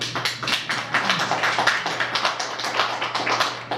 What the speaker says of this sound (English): So just give another round of applause, please.